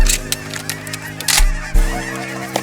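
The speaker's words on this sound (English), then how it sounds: "fresh geese out front." Geese honk loudly and close by in a quick, overlapping series of calls, with a few sharp bursts standing out, during a waterfowl hunt.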